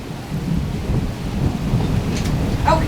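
Thunder rumbles low and continuous during a storm over Dover, a broad steady roll with rain noise and no clear voices.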